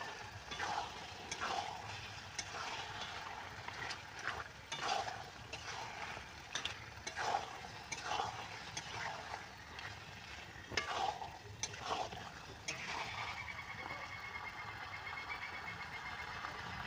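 Chicken and spices stirred in a pan for a gourd and chicken curry, with steady frying sizzle and repeated scraping strokes of a spoon close by, no talking.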